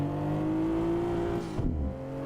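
A sim racing car engine drones steadily at a held pitch, then the revs drop sharply near the end with a brief low rumble, loud and alone with no talk.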